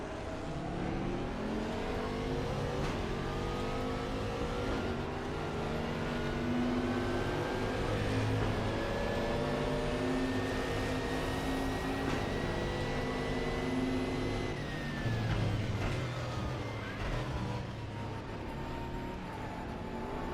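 Koenigsegg engine in the Raceroom racing game, a steady, loud, sustained drone that rises and falls in pitch as the revs climb and ease off, running continuously with no talking.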